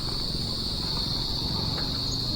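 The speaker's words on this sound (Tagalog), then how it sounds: "Ang dami ng kuliglig." Many crickets chirp outdoors at sunset, a steady high-pitched trill running without pause under low background rumble, with no voices.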